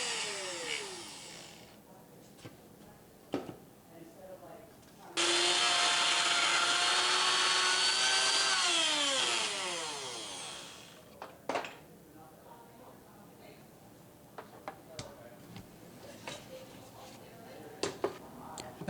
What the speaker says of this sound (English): we can create ourselves a perfectly square cutout using the router